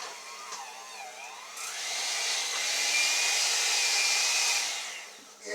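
An electric kitchen mixer whirs loudly and steadily for several seconds while preparing food for stuffed pork chops, its motor pitch rising and settling before it cuts off, with no talking over it.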